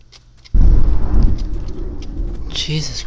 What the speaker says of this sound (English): that thunderstorm.